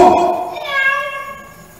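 A man imitates a goat bleating at a circus show in Palmeira dos Índios, producing one loud, wavering nasal cry that trails off over nearly two seconds.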